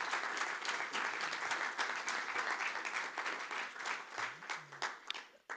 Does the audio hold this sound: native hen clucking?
no